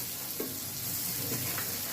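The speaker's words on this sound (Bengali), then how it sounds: "মাছগুলো এক পাশ হয়ে গেছে ভাজা আমি এখন উল্টোই দিতেছি" Small puti fish frying in hot oil in a pan while being turned over, a steady close sizzle with a few brief scraping stir sounds, no talking.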